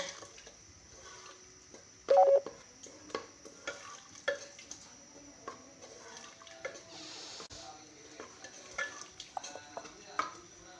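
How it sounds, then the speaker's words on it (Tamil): Eggplant sabzi stirred in a pan with a spoon, quiet scraping and clinking strokes with a faint sizzle, one louder metallic knock near the start, soft and close throughout. "இப்போது இதை நல்லா கிளறி விட்டுருங்க"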